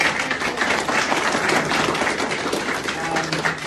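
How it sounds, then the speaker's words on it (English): Dense, steady applause from an audience at a late-evening community meeting in Jindabyne, thanking the presenters; a continuous broadband patter of many hands that holds level for the whole stretch, with a little voice murmur mixed underneath. "they deserve a round of applause"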